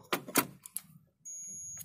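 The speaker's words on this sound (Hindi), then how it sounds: "एक मल्टीमीटर आप देख सकते हैं बीप कर रहा है" A multimeter set to continuity mode beeps with one steady electronic tone lasting about half a second, its probes touching a PC power connector pin and ground. Brief taps and handling noise come before it.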